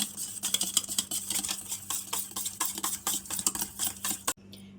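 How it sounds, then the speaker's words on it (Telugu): Eggs and sugar are whisked for donut batter in a bowl, a fast rhythmic clatter of a utensil against the bowl, close and busy, stopping abruptly near the end. "ఇప్పుడు షుగర్ అంతా కరిగేలాగా మిక్స్ చేసుకుందాం."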